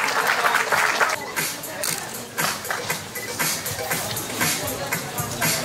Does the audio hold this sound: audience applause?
yes